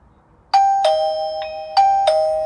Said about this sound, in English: So that's the Chime, and the doorbell makes a noise as well.